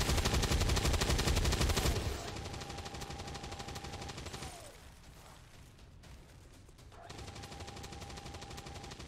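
Rapid automatic gunfire in the video game XCOM 2, a dense rattling stream that eases in level, drops out briefly, then resumes at lower volume alongside a faint steady tone, with no speech.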